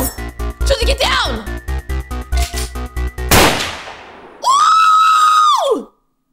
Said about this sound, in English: Heard a gunshot.